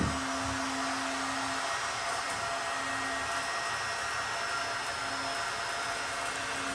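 A portable edge bander's heater runs with a steady, even blowing hiss like a hair dryer, close and unbroken throughout, with a faint tonal hum beneath and no talk.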